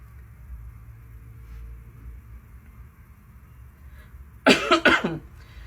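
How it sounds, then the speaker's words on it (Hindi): Several quick harsh coughs with a throat-clearing rasp sound close and fairly loud after a stretch of quiet low room noise, from a man with a cold. "थोड़ी सर्दी खांसी हो रखी है भाई को।"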